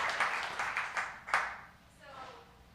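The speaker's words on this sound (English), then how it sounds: "let's give that a round of applause" Audience at a July 2017 community event claps briefly in a few bursts, fairly close and moderately loud, tapering off quickly as the room settles.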